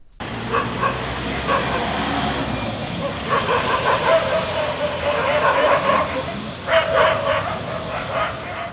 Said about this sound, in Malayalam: പ്രദേശത്തെ പുതിയ ടൗൺ ഹാളിൽ നായ്ക്കൾ കൂട്ടത്തോടെ തമ്പടിച്ചിരിക്കുകയാണെന്ന പരാതിയും ഉയർന്നിട്ടുണ്ട്